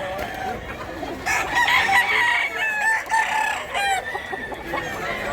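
Chickens and roosters at a Thursday poultry market in Mantalongon, Barili, Cebu, with overlapping crowing and clucking close by and continuous crowd bustle behind.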